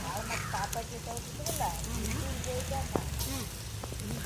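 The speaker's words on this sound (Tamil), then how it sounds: "சின்ன வெங்காயத்தை போட்டு கொஞ்சம் எண்ணெயில் வறுக்கலாம்" Small onions and garlic frying in oil for a fish curry give a quiet, steady sizzle with faint crackles, heard close beneath a person talking.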